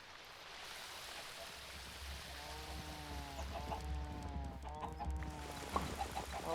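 Chickens cluck in RLCraft, a modded Minecraft survival game, a run of repeated bursts of clucking heard fairly close over a continuous low ambient hum with a soft, rushing background.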